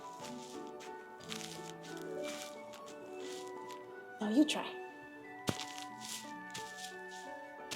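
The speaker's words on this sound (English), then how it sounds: "we're walking on snow, and for that we're gonna use sandbags. And what you're gonna do is just step on them" Foley snow footsteps made by stepping on sandbags: a few soft, crunchy squishes, with the clearest one mid-clip and another shortly after, heard under ongoing talk and a quiet tonal background.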